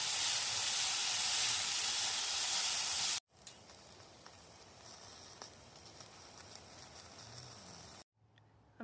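Onions sizzle and fry loudly in a pan while being cooked in a van kitchen; the hiss is steady and close for about three seconds, then drops to a quieter sizzle after a brief cut, with light stirring.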